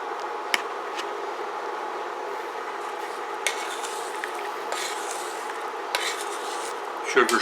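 Cherries and sugar syrup simmering gently in a pan at very low heat, a steady soft bubbling hiss with a few light clinks of a utensil against the pan, close and alone.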